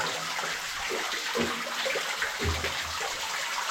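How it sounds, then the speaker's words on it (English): Water falling down a horseshoe-shaped rock feature inside the abandoned Rampgill lead mine at Nenthead, a steady splashing trickle echoing in the tunnel with a few louder drips and splashes. "An horseshoe with water coming down, that's cool."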